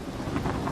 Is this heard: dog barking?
no